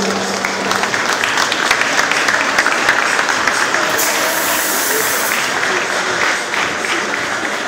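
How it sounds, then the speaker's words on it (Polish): An audience at an award ceremony during the 2016 Kraków Moto Show claps and cheers in a loud, sustained wave of applause that fills the whole moment. "Wielkie brawa!"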